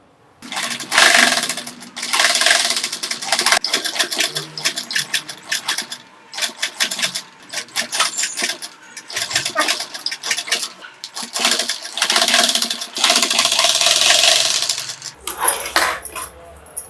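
Sewing machine stitching frills onto blouse canvas around a back-neck design, heard as bursts of fast mechanical whirring that start and stop repeatedly, close and fairly loud, with small clinks and handling noises between runs.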